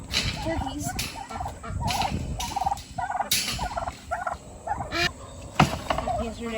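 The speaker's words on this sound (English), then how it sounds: "Turkeys." Turkeys on a farm gobbling in a rapid, warbling series, several calls overlapping at moderate distance over a soft background of movement and noise.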